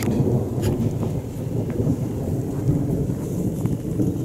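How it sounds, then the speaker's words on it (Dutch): Thunder rumbles low and heavy through a summer storm with steady rain falling, the deep rolling boom filling the clip with gusts of wind buffeting the microphone. "Een donder."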